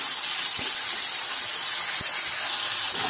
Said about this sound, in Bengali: এইভাবে ফুল আঁচে আমি 2 মিনিট মতো আলু ও ঝিঙেটাকে ফুল আঁচে ভেজে নেব